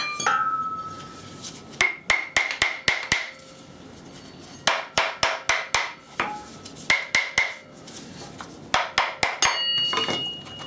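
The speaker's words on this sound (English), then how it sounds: "Okay, so now giving it a few taps. There is my hammer gun." Hammer gun tapping off the cam pulley of a VW engine in a home garage: sharp metallic taps in four quick bursts of roughly five to seven blows each, close and loud, with short pauses between.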